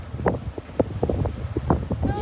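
Wind blowing outdoors buffets the microphone with a low, steady rumble while muffled voices come and go over it.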